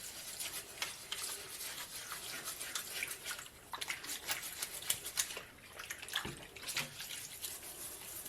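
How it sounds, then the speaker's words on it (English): Scrub brush working a childhood teddy bear's fur in a basin of soapy, detergent-laden water, giving steady wet sloshing and bristle scrubbing with small splashes, close and fairly quiet. "I'm going to take my scrub brush and just start scrubbing his fur really, really well"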